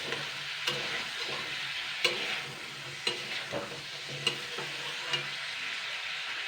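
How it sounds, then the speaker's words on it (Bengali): Chicken coated in masala fries in a pan with a soft, steady sizzle, broken by regular scraping stirs about once a second, close by and fairly quiet, with no voices. "এবার আমি সুন্দর ফ্রাই করে নেব, আবারও 2-3 মিনিট ফ্রাই করে নেব।"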